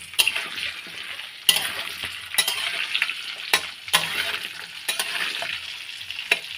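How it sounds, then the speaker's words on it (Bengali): Nigella seeds sizzling steadily in hot oil in a pan, a loud close crackle broken by regular sharp knocks of a spoon stirring against the metal, with no talking. "এবার কালো জিরে ফোড়ন দিলাম"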